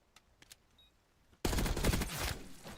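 A few faint clicks, then a sudden loud burst of rapid automatic gunfire in an esports shooter match, continuing densely to the end.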